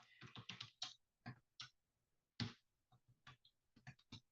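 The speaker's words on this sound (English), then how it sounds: "look at that typing" Bursts of keyboard typing, quick clusters of clacking keystrokes with short pauses between runs, close and fairly quiet, with no voices.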